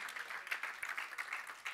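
A church congregation clapping together during a worship service, a fairly faint, steady patter of many hands at moderate distance.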